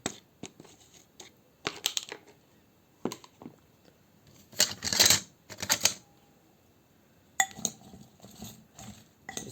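Potatoes and onions tossed with sauce in a baking tray, with a utensil scraping and clinking against the dish in irregular bursts, close and fairly sharp, with no talking.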